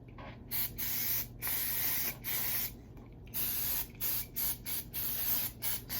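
A can of tousled hair texture spray gives repeated short hissing spritzes in quick bursts, close and fairly soft, with brief gaps between them.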